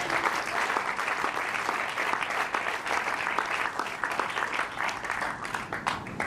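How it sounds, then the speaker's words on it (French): Sustained applause from a congregation acclaiming the Lord during a church sermon on mercy and the beatitudes, steady dense clapping throughout with no speech. "On va acclamer le Seigneur."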